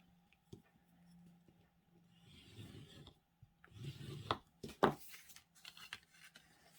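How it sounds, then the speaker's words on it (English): Paper on a pop-up card is burnished with a tool, giving soft intermittent rubbing and scraping strokes close to the mic, with a few sharper taps and scuffs in a quiet room. "I need to just burnish it first"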